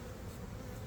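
A big honey bee swarm buzzes inside a new 10-frame hive, a faint dense drone of many wings held steady throughout the short moment with no voices.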